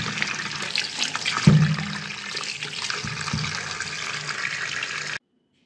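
Raw mangoes being washed under running tap water give a steady, close gush of flowing water with splashing and a few knocks, which stops abruptly at the end.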